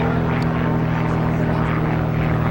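Propeller-driven aerobatic airplane flying an outside loop, its engine droning steadily and loudly with a constant propeller buzz throughout, no pauses.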